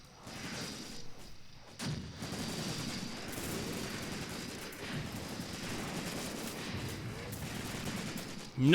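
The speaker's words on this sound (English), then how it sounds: "That's going to be pretty nasty machine gun fire." Enemy machine gun fire in the war game Graviteam Tactics: Mius Front, a dense steady clatter of overlapping bursts running throughout, with a few heavier thumps and a sharp final crack.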